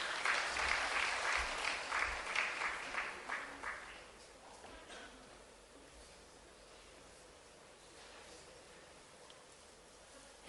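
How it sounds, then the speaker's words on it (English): A crowd claps loudly for about four seconds, then the applause fades into a soft, steady background hiss. "let's have a big round of applause"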